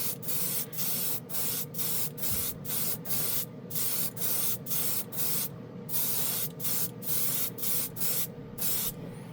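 Seymour Extreme FX Chrome spray paint hissing from an aerosol can onto a primed spoon, a series of short, regular bursts of close, loud spraying separated by brief gaps.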